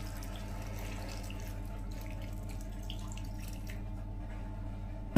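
Hot water poured into a cooking pot at a campsite tent, a steady low liquid pour and trickle running continuously under a faint background hum, ending in a brief sharp clatter.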